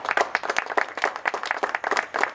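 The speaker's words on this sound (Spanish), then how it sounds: "un aplauso para ustedes." A small group applauds course graduates at a computer-course diploma ceremony. The clapping is brisk, uneven and fairly close, with no one speaking over it.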